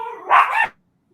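A dog lets out one short, sharp bark, loud and close, then the sound cuts to silence.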